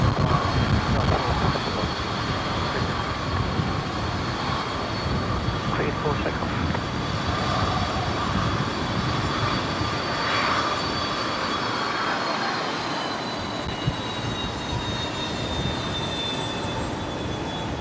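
An aircraft departing Brisbane Airport in a full U-turn gives a steady, broad engine roar with a faint high whine, held at a fairly even level from some distance, while people talk over it.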